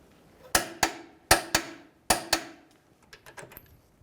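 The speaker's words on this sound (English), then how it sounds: "with our wrench on top, we'll torque down our bottom bolt to 128 foot-pounds" A torque wrench tightens the lower control arm bolt on a 2015-2019 Hyundai Sonata to 128 foot-pounds, giving three pairs of sharp close metallic clicks in steady rhythm, followed by a few fainter ratcheting ticks, with no talking.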